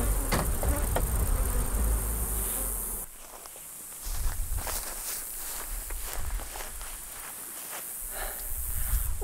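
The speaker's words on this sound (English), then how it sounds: "We just unloaded those bees, and they actually followed me all the way from the apiary over to here" Steady buzzing of many honeybees around a hive, with occasional louder passes close by, against a light outdoor background; no talking.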